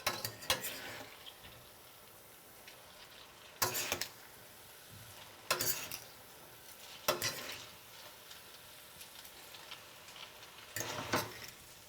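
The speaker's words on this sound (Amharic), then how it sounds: "ለመቀላቀል እንዲመቸኝ ሹካ ነው የሚሻለው።" A fork stirring pasta in a pan over low heat, producing a few sharp clinks and scrapes against the metal spread through a quiet sizzle, with no talking.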